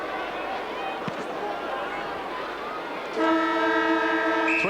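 A loud, steady end-of-quarter siren blares at a 1990 Australian football semi-final between North Melbourne and Carlton, cutting in sharply over the crowd noise and the commentary.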